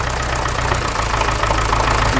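Cold Massey Ferguson MF35 tractor engine idling close by, a steady loud diesel chug with a rhythmic knocking pulse and no voices over it.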